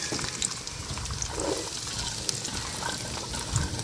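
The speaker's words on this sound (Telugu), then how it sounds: "ఉల్లిగడ్డలు వేసుకుందామండి" Onions dropped into hot oil in a frying pan for a Telugu egg curry (egg pulusu), giving a steady, close sizzle with faint liquid bubbling throughout and no talk.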